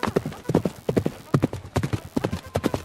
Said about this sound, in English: there was the thunder of hooves